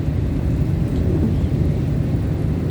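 Steady rain falls with a dense, low, rumbling wash during a drive on a road, loud and even all the way through, with no voices.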